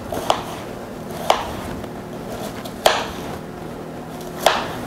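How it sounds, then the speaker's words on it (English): Chicken being cut with a knife on a board while making orange chicken, four sharp chopping knocks spaced about a second apart over a quiet kitchen background, no talking. "So you cut it first that way,"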